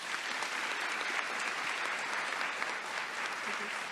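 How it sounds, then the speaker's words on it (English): Continuous, even applause from an audience at a Veterans Day program, honoring veterans, with a steady wash of clapping at moderate distance and no break. "Please join me in a big round of applause for our heroes"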